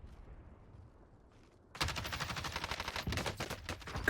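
Automatic gunfire from the Warzone video game erupts after a quiet start, a loud, fast stream of rattling shots that continues to the end.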